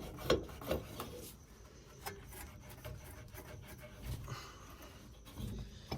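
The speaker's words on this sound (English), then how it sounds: "we're going to take our towel and we're going to wipe off the excess pipe dope" A towel rubs and wipes excess pipe dope off a threaded gas pipe fitting on a burner, producing quiet, close, intermittent scrubbing strokes with brief pauses between them.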